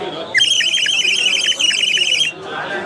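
A high, warbling trill repeats rapidly for about two seconds, a clay bird whistle filled with water bubbling bird calls, loud and close, then fades.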